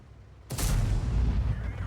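A heavy tank gun shell lands a big hit in the World of Tanks game, with a sudden loud boom followed by a deep, sustained rumbling roar and no talking.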